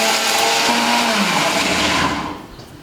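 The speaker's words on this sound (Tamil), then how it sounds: "சீரகம், மிளகு இது எல்லாத்தையும் அரைச்சிக்கலாம்." A mixer grinder whirs loudly, grinding coconut, green chili, garlic, cumin and pepper in one steady close burst whose pitch shifts partway through, then winds down at the end.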